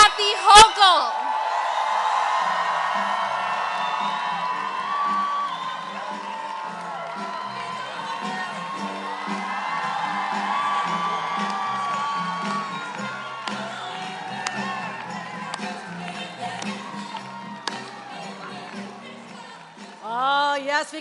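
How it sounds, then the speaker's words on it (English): A large rally crowd in Westchester, New York, cheers, whoops and shouts for Governor Kathy Hochul, with a sustained roar of voices filling most of the stretch before it tapers off, then swells again at the end. "can I just have the crowd make some noise as much as you can for our governor?"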